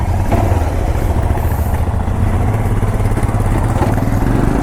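A motorcycle engine runs near and loud during a forest off-road trip, a steady mid-pitched rumble with rapid firing pulses and some clatter that continues without pause.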